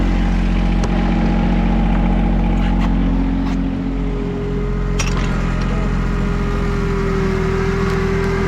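A John Deere 2320 tractor engine drones with a steady low rumble throughout, loud and close, with occasional faint clanks and knocks over the continuous running motor.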